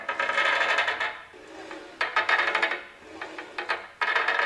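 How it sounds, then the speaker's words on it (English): Small metal bearings from a pedal car clatter and roll across a hard surface in several bursts of rattling, close by and fairly quiet, with short pauses between them. "That's exactly what a bearing sounds like."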